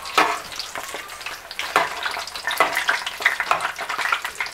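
Chicken chimichangas fry in a pan with a steady, crackling sizzle, close and fairly loud, with occasional louder pops and spits as they brown.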